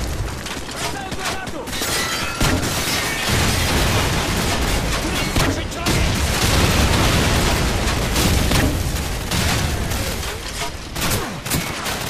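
Call of Duty 4 combat on Xbox 360: a frag grenade blast rolls through sustained rifle and machine-gun fire, loud dense bursts with heavy booms, while soldiers shout over the fighting.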